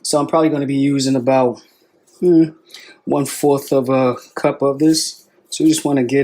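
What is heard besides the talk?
None of the usual background noises is heard.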